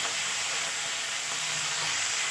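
Chopped tomatoes hit hot oil with ginger-garlic paste in a frying pan for a jackfruit and egg curry, giving a steady, loud, broadband sizzle that hisses continuously with no voices over it.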